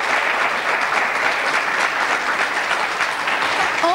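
Steady, dense studio audience applause on a 1995 French TV word game show, loud and continuous throughout with no break.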